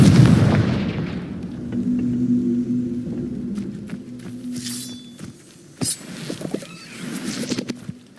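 Confringo blasting spell in Hogwarts Legacy, a heavy boom opening, then lower rumbling, scattered thuds and sharp bright bursts later.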